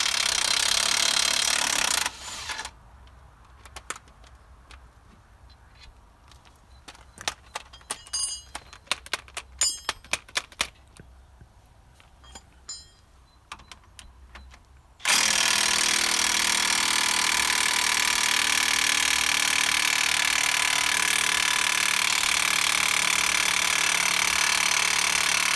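Power tool on a 2005 Land Rover Discovery 3, working a stuck shock absorber bolt during an air-to-spring suspension conversion: loud sustained whirring at the start, then intermittent rattling bursts, then a long steady loud grinding run.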